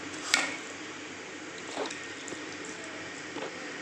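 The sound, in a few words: water poured gradually into rava batter while mixing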